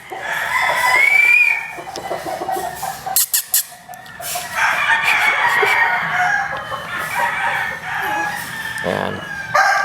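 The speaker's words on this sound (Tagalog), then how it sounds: "Ito yung natin, yung Bruce Barnett yellow-legged hatch natin." A yellow-legged hatch gamecock rooster crows loudly and close by, several times, with some clucking and someone talking briefly in between.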